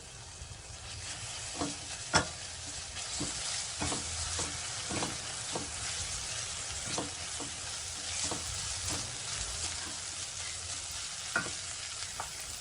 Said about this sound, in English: saute them for a while